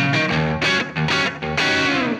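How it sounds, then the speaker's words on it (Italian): An electric guitar through a Marshall JCM 900 amp on its distorted red channel rings out loud and sustained, with heavy gritty overdrive and several chord changes, played alone without voices. "Questo è il suono del Marshall. È solo il Marshall, cioè, è quella roba lì. Chitarra cavo Marshall."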